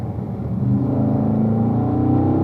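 A car accelerates at full power on a race track, its engine note rising steadily and loud, building into a sustained roar as it shifts up to fourth gear.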